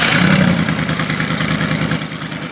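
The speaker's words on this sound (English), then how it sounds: "It's a really nice sounding engine. It's very happy with the custom exhaust." A 1972 Chevrolet Corvette engine with a custom exhaust idles loudly, a deep, rumbling, steady throaty burble that swells slightly at the start, no voices present.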